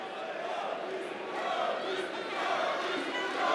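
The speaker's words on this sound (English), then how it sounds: "There you can hear the crowd cheering on Yonis." Fight-night crowd cheering on a fighter in a late round, a sustained roar of many voices with swelling shouts, steady and fairly distant.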